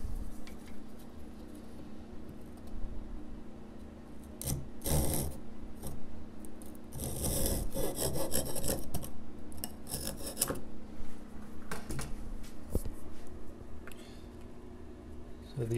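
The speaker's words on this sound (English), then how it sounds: "This little contraption and trim that brace down." A small hand tool rasps and scrapes as it trims down a wooden guitar brace over the bridge plate, with uneven bursts of filing strokes over a steady low hum and quiet workshop background.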